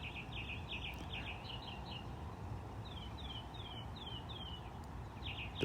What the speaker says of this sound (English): The birds chirping in the background.